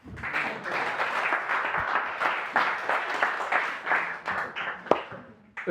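An audience applauds at a talk on Louisiana Franco-Creole heritage: steady, dense clapping from many hands, moderately distant, continuing without a break and fading slightly near the end.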